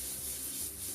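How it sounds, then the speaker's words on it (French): Car body panels being sanded by hand and with a power sander give a close, continuous abrasive rubbing hiss that holds steady for under a second. "J'alterne travail à la ponceuse et à la main pour poncer les zones incurvées et coins plus facilement"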